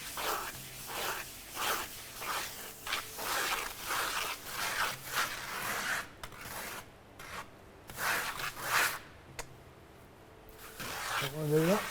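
A float or sponge rubs plane-face render into a bead on a wall in repeated scraping strokes, close and moderately loud, with a rougher rasping stretch midway and brief pauses between passes.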